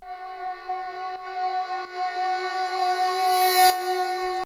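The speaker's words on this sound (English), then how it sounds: "I found this vocal swell. I pitched that up 2 semitones and it sounds like this." Vocal swell sample pitched up two semitones: a sustained, tonal sung note that grows gradually louder and brighter, then cuts off abruptly.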